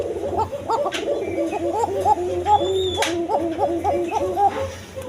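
Arabian pigeons coo repeatedly close by, several birds overlapping in a rhythmic run of soft throaty calls, with a few sharper higher notes cutting through.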